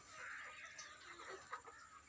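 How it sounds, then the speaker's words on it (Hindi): A rooster on a village poultry farm clucks softly a few times in short, low bursts, faint and fairly close in a quiet setting. "ये मुर्गा है जी"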